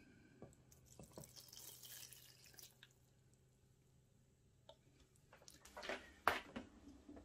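Warm water, about 320 ml, pours into a bread machine pan for bread dough, with soft drips and trickles rising to a louder splashy burst near the end, quiet and close with no talk.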